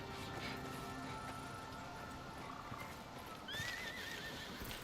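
A horse neighs faintly in the distance in the survival game Icarus, over a steady background hum and ambient game noise, with a rising whinny near the end.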